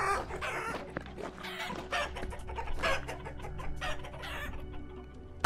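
Chickens cluck and a rooster crows in a farmyard scene from the Vintage Story video game, several birds calling in short irregular bursts close by over a steady low background.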